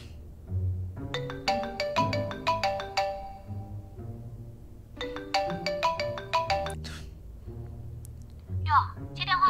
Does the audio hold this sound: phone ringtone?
yes